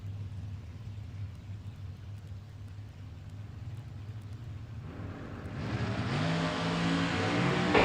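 Dragsters at a drag racing meet rumble idling at the line, then the engine roar jumps sharply and keeps building as they launch off the start, loud and close, with no voices.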